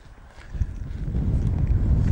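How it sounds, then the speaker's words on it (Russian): Strong hot wind gusting at about 20 metres per second over an open field, a loud rumbling buffet that builds and stays heavy against the microphone, with no voices. "Сегодня знойный ветер, 20 метров в секунду."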